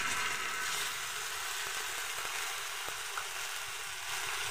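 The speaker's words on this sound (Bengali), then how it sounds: "এবার এটাকেও ভালো করে আমি ভেজে নেব।" Ginger-garlic paste fries in a pan with browned onions for a Bengali rohu fish curry, giving a loud, steady, close sizzle with a few faint clinks.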